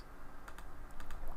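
Keystrokes on a computer keyboard: a short burst of several light, close clicks tapped in quick, uneven succession over quiet room tone.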